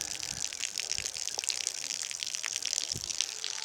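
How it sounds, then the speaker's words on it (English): Discharge water from a washing machine gushes out of a drain pipe outdoors, a steady close splashing, hissing flow with no pauses. "this is the washing machine draining"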